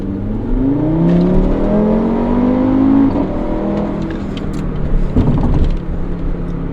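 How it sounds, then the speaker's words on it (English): A turbocharged five-cylinder 2015 Audi RS3 Sportback in sport mode accelerates hard, its engine note climbing steadily through the gears as a loud, continuous rising drone with brief dips at each shift. "this is the acceleration of the Audi RS3"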